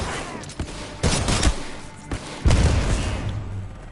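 Titanfall 2 shotgun blasts go off in a few loud, heavy booms in close succession, separated by short gaps, with game effects ringing on after each shot.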